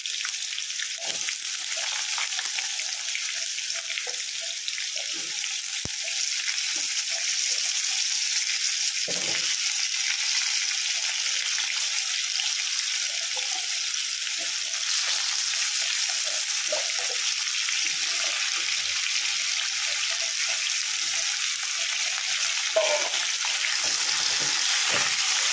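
Potatoes frying with tomatoes in a pan for a vegetarian aloo torkari give a loud, continuous close sizzle that holds steady for the whole stretch, with only brief faint clinks and no talk.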